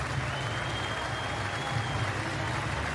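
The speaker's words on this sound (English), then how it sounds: "Applause around the ground in support" A stadium crowd at a Rugby League World Cup match between Tonga and Samoa applauds around the ground, a steady, dense roar of distant clapping that holds evenly throughout.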